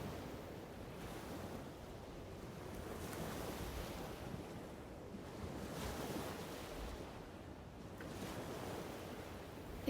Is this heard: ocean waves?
yes